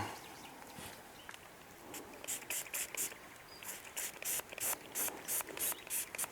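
A spray bottle fires a rapid run of short, sharp hissing squirts near a tree, about a dozen bursts in a quick irregular rhythm after a quiet start.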